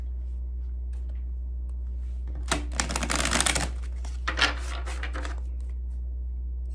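Tarot cards riffle and flutter in a couple of quick shuffling bursts, crisp and close, with quiet pauses and a steady low hum underneath.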